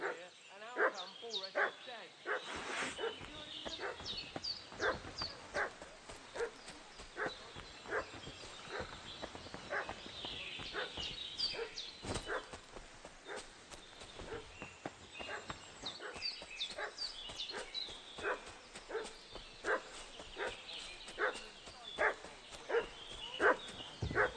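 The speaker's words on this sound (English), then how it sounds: "What's that dog making such a fuss about?" A dog barks repeatedly in the medieval world of Kingdom Come: Deliverance II, with sharp, fairly close yaps coming in irregular bursts, while horse hooves clip-clop and faint background murmurs run underneath.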